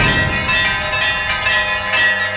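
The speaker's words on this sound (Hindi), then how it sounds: "मंदिर के प्रवेश द्वार पर बड़ी संख्या में घंटियां लटकी हैं।" Many bells hanging at the entrance of a Shiva temple on the Panchkrosi pilgrimage route in Varanasi ring continuously, a bright metallic shimmer with sustained overlapping tones and repeated strikes throughout.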